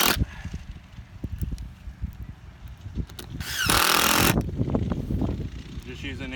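A power drill briefly whirs, driving a 1 1/4-inch wood screw into a board for a strawberry bed hoophouse outdoors, one short burst amid handling noise and someone talking.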